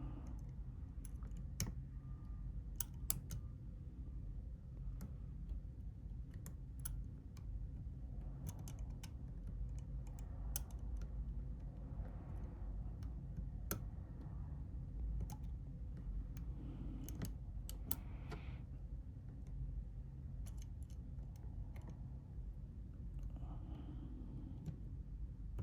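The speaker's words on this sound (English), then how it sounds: "You should hear nice clicking." Small plastic clicks while a replacement screen is pressed into place on a Google Pixel 6 Pro, a scattered run of faint, close taps over a steady low background hum with no talking.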